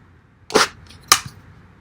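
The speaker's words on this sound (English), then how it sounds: "Let's see how it handles an empty Coke bottle." A Kubey Raven knife slicing into an empty plastic Coke bottle gives two sharp, close crackling snaps about half a second apart, with a faint crinkle after the second.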